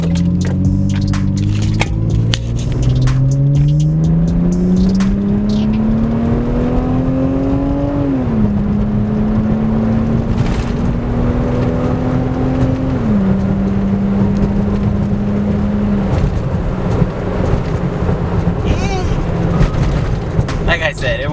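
Lexus IS300 engine and exhaust fitted with a Y pipe pulling away from a light, a droning note rising through two or three shifts before settling to a steady cruise, heard from inside the car.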